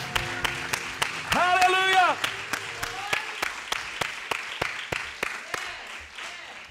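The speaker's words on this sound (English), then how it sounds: "Come on, clap your hands, all your people." A church congregation claps hands in a steady, even rhythm during a worship service, mid-loud and roomy, with a brief sung or shouted voice and singing over the first couple of seconds.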